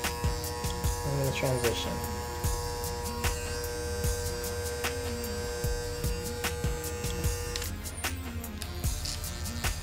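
Electric hair clippers set to zero buzz steadily and close up as they trim around a client's ear during a low skin fade, with a short remark spoken over the hum.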